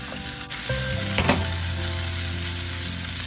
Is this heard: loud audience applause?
no